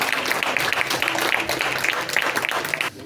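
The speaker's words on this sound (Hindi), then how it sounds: "तालियों के साथ स्वागत कीजिए इनका" Audience applause welcoming guests at a World Radio Day celebration event, moderately loud steady clapping that drops off abruptly near the end.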